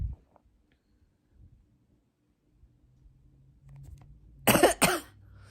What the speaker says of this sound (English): blowing my nose and coughing